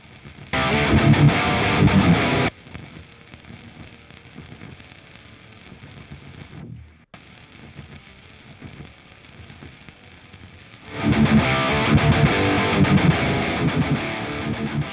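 A real guitar amp and its digital capture are played together in a phase-cancel test, so a loud distorted guitar tone drops to a thin, faint crackly residue in the middle, then the full distorted sound returns.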